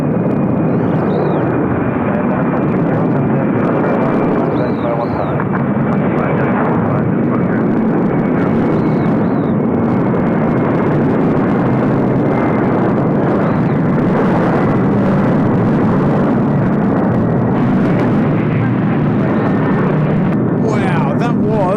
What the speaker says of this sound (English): that was the quickest takeoff roll